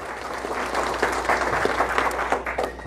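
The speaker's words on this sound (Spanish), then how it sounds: "Los aplausos fuertes para ellos." Guests at a civic mass wedding applaud a newly married couple, a short burst of brisk, fairly close clapping from a modest crowd, with no talk over it.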